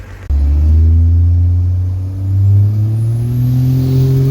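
A Dodge Dakota pickup swapped to a 12-valve diesel with an S300 turbo drives along. Its engine fires up into a loud, close, droning rumble that swells and revs across the clip, with a rising whine near the end.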